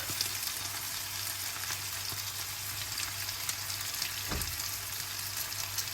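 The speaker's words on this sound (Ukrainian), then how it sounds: "видушую Чеснок" Meat and vegetables with garlic fry in a pan, making a steady, fairly quiet sizzle throughout with light stirring and a brief clatter near the end.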